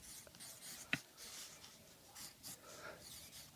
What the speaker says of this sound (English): for my card, I'm going to write at the top